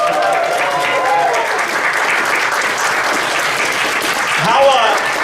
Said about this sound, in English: Can we get a loud round of applause?